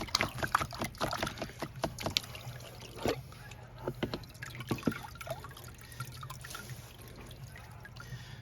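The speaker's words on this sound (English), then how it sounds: "I like to hold it at an angle, let all the water drain off" Water drains and drips steadily from a diamond-sifting screen held at an angle at a diamond crater, with scattered splashes and trickles up close throughout.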